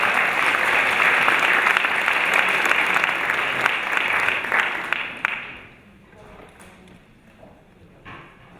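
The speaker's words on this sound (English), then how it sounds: "Let's give them a round of applause." Audience applause at a conference session as panelists come up on stage, dense and steady for about five seconds before tapering off into a quiet room.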